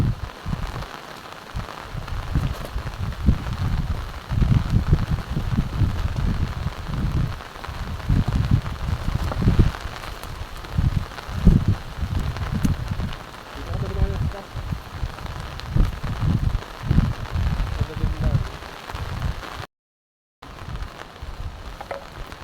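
Heavy rain falls during Typhoon Aghon, a dense, rushing patter that swells and dips for a long stretch, with a brief dropout near the end.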